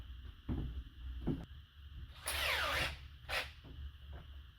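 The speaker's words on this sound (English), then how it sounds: "looks like pre-drilling would be a good idea" A power drill with an 8-inch bit whines briefly as it pre-drills a screw hole, between quieter handling noises and background rumble.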